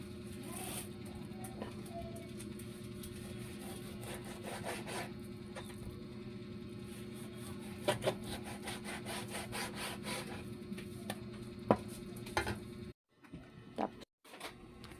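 Knife cutting through ingredients for Bicol express, a Filipino coconut-milk pork dish, in a home kitchen: steady repeated rasping strokes under a constant background hum, ending in a couple of brief gaps near the close.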